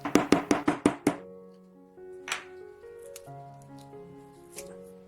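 A hammer taps a metal pipe to punch circles out of double-sided tape: a quick run of six sharp, close strikes, then a few scattered knocks with faint ringing tones fading between them.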